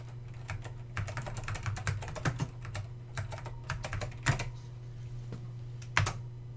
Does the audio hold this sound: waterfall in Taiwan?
no